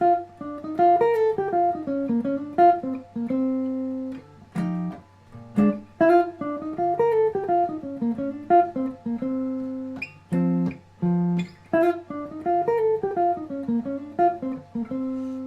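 A jazz blues lick on a clean, mellow instrument, the same short phrase repeated several times over a steady low bass note, with brief pauses between.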